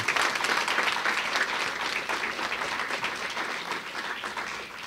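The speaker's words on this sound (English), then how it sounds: "let's give them a round of applause for all of them" A crowd at a CUNY Aviation Institute family night claps steadily for several seconds, a dense even wash of many hands that tapers slightly toward the end.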